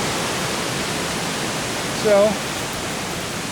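Emerald Pool Falls sends a steady, broadband rush of falling water that fills the scene evenly throughout, with a brief spoken word heard over it.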